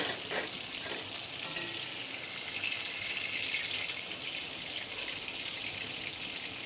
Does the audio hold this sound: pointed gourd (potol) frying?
yes